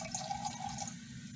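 Red wine pours into a glass at a dinner table, a faint liquid trickle with a rising fill tone that fades near the end, quiet and close without any speech.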